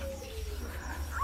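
A zebra dove (perkutut) coos briefly, a soft rounded call heard close over a low background hum.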